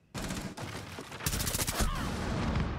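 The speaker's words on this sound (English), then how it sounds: "They're shooting, bro." Dense automatic gunfire in the tactical shooter Rainbow Six Siege, a heavy sustained rattle of overlapping shots that grows louder after a brief gap and continues steadily to the end.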